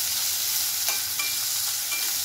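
Finely chopped onion sautés in a pan with crushed garlic cloves, making a constant close sizzle broken by a couple of faint stirring taps, without speech.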